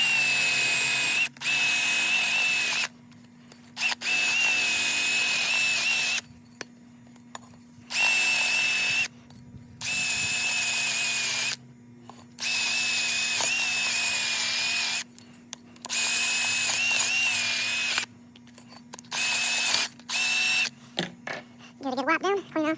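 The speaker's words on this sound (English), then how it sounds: "you can just go back around it with the wire wheel brush" A drill spinning a wire wheel brush scrubs metal parts during a 271D automatic-to-manual input shaft swap, in loud, close, whining bursts of a few seconds each, separated by short pauses.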